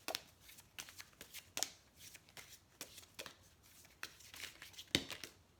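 Oracle cards shuffled by hand in soft, uneven bursts of riffling and slapping, quiet and close, with short pauses between the shuffles and no voices.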